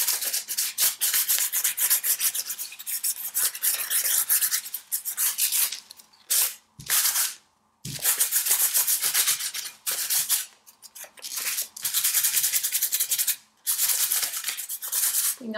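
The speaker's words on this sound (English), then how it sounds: "Also sand off any little runs in the paint that you may have had" Loud, close sanding of chalk paint on a glass liquor bottle, rubbing strokes in steady rhythmic bursts, broken by a few brief pauses, with no voices.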